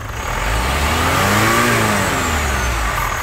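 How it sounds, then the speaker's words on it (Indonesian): A diesel car engine revs up loudly and steadily as the accelerator is pressed, rising and holding for about three seconds with no talking. "Nah, sekarang coba kita injak gasnya."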